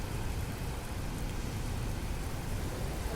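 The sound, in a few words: rain falling in Dubai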